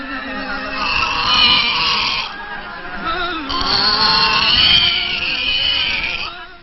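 A pig held for a veterinary inspection at a market in Madagascar squeals furiously in protest, two long loud shrieking bursts close by with a short gap between them.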